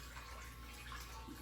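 Watermelon moonshine mix pours steadily into jugs, a continuous close rushing stream of liquid with no break.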